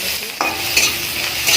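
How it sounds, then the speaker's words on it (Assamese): Onions and green chilies fry in a pan with a steady sizzle, stirred with a couple of sharp scraping strokes, close and loud with no voices. "এইখিনি এনেকৈ মিডিয়াম ফ্লেমত ভাজিব লাগিব যাতে পিঁয়াজখিনি ক'লা হৈ নাযায়"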